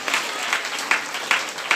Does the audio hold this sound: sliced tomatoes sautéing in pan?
no